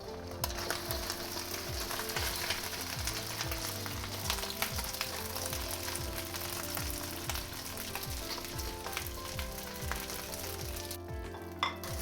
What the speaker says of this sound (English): So I'm just gonna fry these eggs up for a little bit.